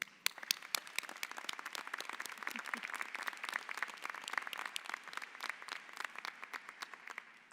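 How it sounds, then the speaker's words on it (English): A commencement audience at a Rutgers University–Camden graduation gives the faculty a sustained round of applause, many hands clapping densely and evenly from a distance. "can we applaud you one more time as we recognize the dedication to our students"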